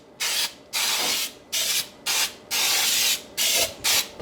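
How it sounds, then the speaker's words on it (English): Cooking spray hisses into a bundt pan in seven short, sharp bursts of roughly half a second each, separated by brief silences, close and fairly loud with no talking. "I'm gonna use just a little bit of this spray."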